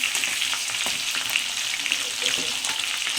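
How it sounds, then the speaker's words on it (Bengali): Potatoes frying in hot oil in a pan alongside crab, a loud continuous crackling sizzle with stirring clicks, close and steady. "আলুটা একটু লাল লাল করে ভাজা হোক"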